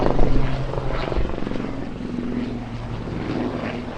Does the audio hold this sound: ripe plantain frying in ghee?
no